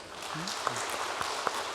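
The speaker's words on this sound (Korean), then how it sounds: "우리 박수 한번 쳐주세요" Church congregation clapping during a Sunday worship service, a brief, moderate round of applause that spreads through the room for under two seconds, with a few louder claps standing out.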